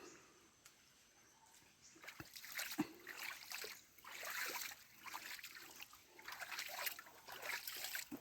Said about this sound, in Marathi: पाण्यातून चालण्याचा हा एक्सपिरियन्स खूप अमेझिंग आहे खळखळ आवाज